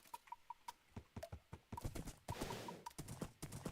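Horse hooves clip-clopping in Gregtech New Horizons, a modded Minecraft game, quick even footfalls with a soft electronic tone alongside, fairly quiet, with no voice over them.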